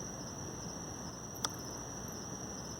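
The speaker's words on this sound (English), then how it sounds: "It is actually quite striking how loud the crickets are here now that there's nothing trying to drown them out." A steady high-pitched cricket trill carries on continuously and faintly against quiet background hiss, with one brief click in the middle.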